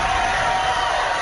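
Crowd noise captured on a recorded reel: a brief, dense wash of distant cheering and hubbub, steady and fairly loud throughout, with no distinct voices standing out.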